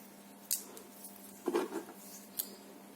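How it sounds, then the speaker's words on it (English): Scissors snip through a folded blue paper strip in a quiet room, a few soft, crisp cuts spaced apart. "Now I'll take the blue strip and fold it in half and cut it in 2 pieces."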